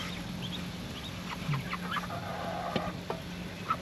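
A hen and her chick cluck softly in a backyard, a few short, scattered calls over faint background noise, fairly quiet and with no talking.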